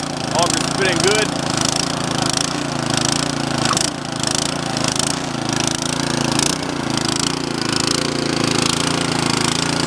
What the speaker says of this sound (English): Go ahead and check the auger out. Auger's spinning good.